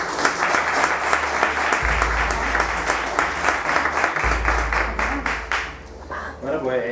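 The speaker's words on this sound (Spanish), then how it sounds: "voy a darle la palabra a Román, así que pido un fuerte aplauso para él." An audience at a Spanish book presentation in a venue called La Carbonería claps steadily, with distinct individual claps in a thick, even wash that thins toward the end as a voice begins.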